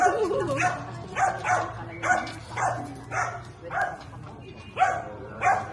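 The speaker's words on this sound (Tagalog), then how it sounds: "Ano, ang daming aso." Several dogs bark repeatedly in bursts, fairly close, roughly once a second, with occasional yips and a low rumble underneath.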